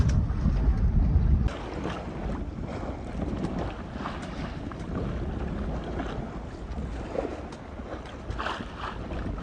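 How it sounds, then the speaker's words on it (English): A Contessa 26 sailboat under way solo across the Thames Estuary, with steady broadband wind and water rush around the hull and strong wind buffeting on the microphone, louder in the first moments and then constant throughout. "this is actually nice sailing rather than the doing battle as it's felt like sometimes the last few days"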